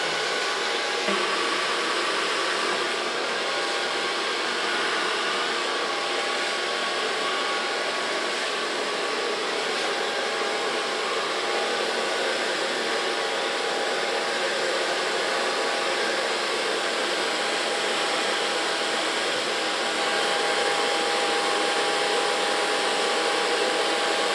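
A hair dryer blows continuously while styling short platinum blonde pixie-cut hair, a steady airy whoosh held at constant level for the whole stretch with no talking.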